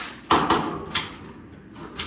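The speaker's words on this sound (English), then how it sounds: "let me close the door." A door in a dedicated home theater room being shut, giving a couple of sharp close knocks followed by softer thuds.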